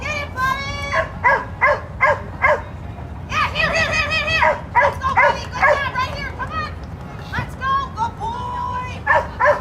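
At a dock-diving competition, a dog gives excited, repeated yelps and whining barks in quick bursts. They are close and loud, mixed with other vocal noise from the event.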